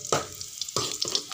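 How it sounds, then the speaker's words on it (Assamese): Onions fry in refined oil, a close crackling sizzle broken by several quick stirring scrapes and clicks. "ৰিফাইনত ভাজি আছোঁ পিঁয়াজ"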